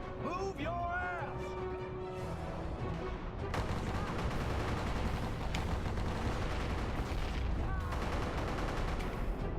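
Video game gunfire, dense bursts of shots and rapid fusillades that follow a short opening tone and continue loud to the end.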